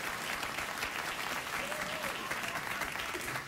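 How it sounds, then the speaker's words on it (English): Dense, steady studio audience applause fills a late-night talk show set, a continuous wash of many hands clapping at even loudness throughout. "Oh, spontaneous, not chicken-related applause."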